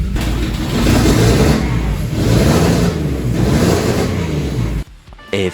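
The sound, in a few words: Mercedes 3.2 turbo engine revving on first start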